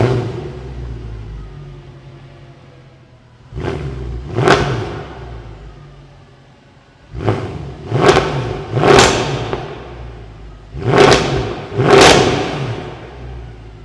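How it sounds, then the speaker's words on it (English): A V8 engine fires up and revs hard in several loud bursts, each roar rising and falling back to a rumbling idle, with no voices. "it's your turn now to listen to the V8 startup sound"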